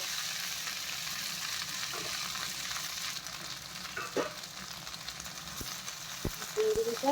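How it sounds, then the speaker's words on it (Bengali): Kulguri frying in a wok with a cumin tempering, a steady soft sizzle with a few light scrapes and clinks toward the end. "কুলগুড়িটা শুধু জিরে ফোড়ন দিয়ে ভাজা হবে"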